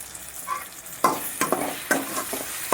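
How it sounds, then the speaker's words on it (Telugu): Tamarind pulp frying in a pan for Karnataka-style vangi bath, with a steady sizzle broken by several sharp stirring scrapes, close and moderately loud, no talk. "ఇలా వేయించుకోవాలండి."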